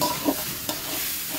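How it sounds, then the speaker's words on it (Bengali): Washed, drained rice frying and stirred in a pan, a brief close sizzle with a couple of scraping stir strokes and no talk. "কিছুক্ষণ জাস্ট এভাবে একটু ভেজে নেব"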